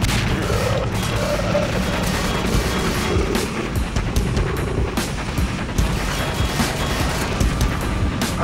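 Continuous video-game gunfire in Garry's Mod on the Aperture Infected map, dense rapid shots and booming blasts crackling nonstop at close range with no pauses.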